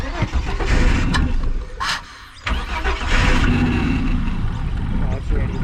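A maroon Ford BA sedan with a Barra engine cranks and catches, then revs roughly and idles unevenly, loud and close, with a short lull midway and people talking over it.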